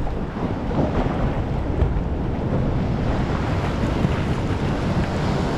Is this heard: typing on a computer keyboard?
no